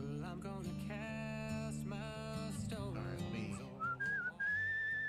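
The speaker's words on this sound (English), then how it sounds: "Whistle to move quicker." A game character whistles in Where the Water Tastes Like Wine, a clear melodic whistle rising to sustained high notes over a steady background of guitar-like game music.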